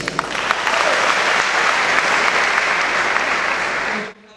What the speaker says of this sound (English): I would ask you to give him a round of applause.